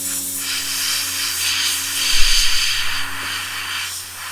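Steady close airbrush hiss as paint is sprayed while rendering the gums of a Predator figure, a continuous airy rush lasting throughout with slight swells in intensity and a faint low hum underneath.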